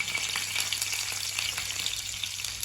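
Green chillies dropped into hot oil sizzle steadily and closely in a pan, a bright crackling hiss with faint stirring, no speech.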